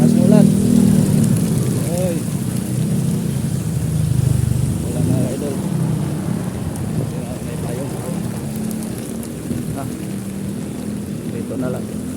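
Steady rain pours down outdoors as a continuous broadband hiss, with children playing and bathing in it; voices and chatter sit under the downpour, loudest in the first few seconds and then easing slightly.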